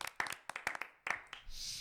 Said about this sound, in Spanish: un aplauso de 4 personas